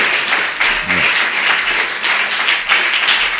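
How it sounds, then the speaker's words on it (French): A church congregation claps together during a French-language service, a dense, steady rattle of applause with a brief voice rising above it. "Applaudis le Seigneur, plus fort."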